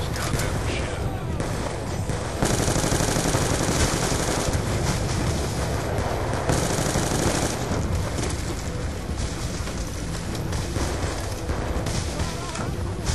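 Sustained Call of Duty: Black Ops 2 gunfire in a campaign firefight, with dense, continuous bursts of automatic weapons and heavy shots overlapping loudly for the whole stretch, and a voice occasionally audible beneath the shooting.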